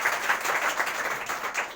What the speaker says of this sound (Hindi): जरा जोरदार ताली तो बजाओ